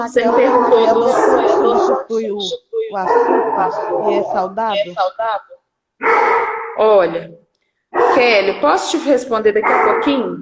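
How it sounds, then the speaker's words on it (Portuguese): A dog barks nearby in short, repeated yelps between and under a woman's continuous speech. "Gente, tem um cachorro latindo aqui"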